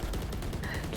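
Rapid gunfire in the video game Valorant during a university esports match, a dense continuous burst of loud shots filling the whole second, heard over a busy game mix.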